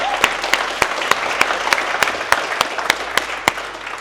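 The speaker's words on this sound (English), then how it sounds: "Round of applause for everybody showing up today" Applause at a youth mentorship program graduation: a crowd's sustained clapping with one nearby clapper striking sharp, evenly spaced claps over the wash of hands.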